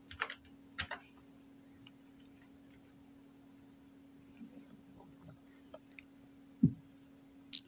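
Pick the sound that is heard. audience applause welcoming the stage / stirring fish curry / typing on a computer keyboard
typing on a computer keyboard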